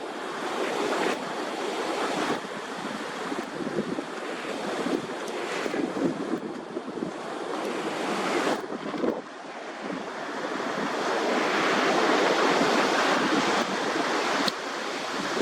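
Strong wind gusts over storm-driven ocean surf near Myrtle Beach during a tropical storm, a continuous loud rush of waves with heavy wind noise rising and falling.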